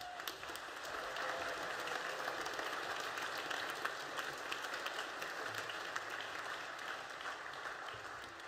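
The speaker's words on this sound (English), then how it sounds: "Let's give him a round of applause." Applause from the audience at a high school holiday concert, a steady, fairly faint roar of many people clapping in a large hall, continuing evenly throughout.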